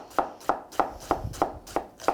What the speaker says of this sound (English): I actually like to cut the onion into quarters, and then you can easily tip it on its side to get multiple angles